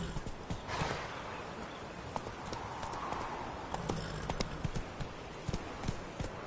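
Hooves of Roach, a horse in The Witcher 3, clip-clop in a steady, fairly close rhythm throughout, with a few brighter hoof strikes and some faint background game sounds and voice.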